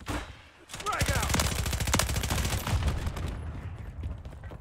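Sustained automatic gunfire rattles in fast, evenly spaced shots during a Team Deathmatch match on Mercado Las Almas in Call of Duty Modern Warfare III, loud and close, then thins into scattered battle noise.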